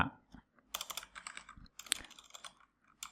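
Rapid typing on a computer keyboard while searching a software toolbox, a dense run of close, crisp key clicks in several bursts with short pauses between them.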